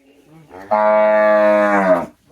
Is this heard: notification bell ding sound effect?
no